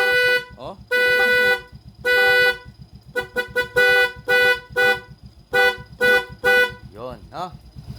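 A motorcycle horn honks repeatedly in loud, close bursts of varying length, with the engine idling underneath between blasts.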